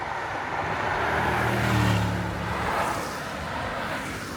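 Mercedes-AMG GT 63 with 577 horsepower cruising in comfort mode on wet, twisty roads, a steady engine drone with tyre hiss and wet road spray heard from inside, swelling briefly mid-way before settling.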